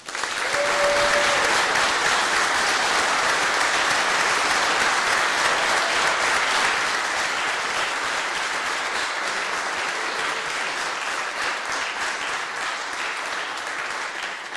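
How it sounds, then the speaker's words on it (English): A Lutheran church audience at a Scout Eagle Court of Honor gives long, dense applause for newly awarded Eagle Scouts, loud at first and tapering slightly over about fifteen seconds. "We now give a round of applause to our newly awarded Eagle Scouts."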